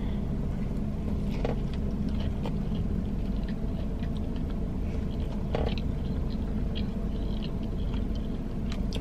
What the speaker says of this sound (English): I'm going in with the crunchy double first.